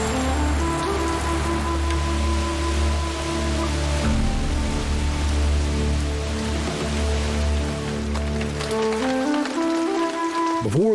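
Steady rain falls outdoors in a mountain wilderness, loud and continuous from start to finish, with a sustained musical drone layered over the wash of drops.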